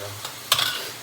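Food sizzles in a pan of organic virgin coconut oil: a brief, soft spitting burst over a low, steady background hiss, with no talk.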